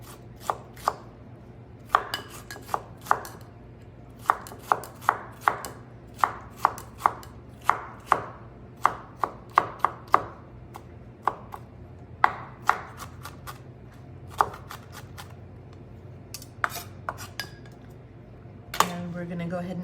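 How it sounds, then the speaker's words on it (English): A knife chops falafel ingredients on a cutting board in sharp, close, rhythmic bursts of taps with short pauses, over a low kitchen hum, and a brief clatter comes near the end. "we're gonna go ahead and chop it all up"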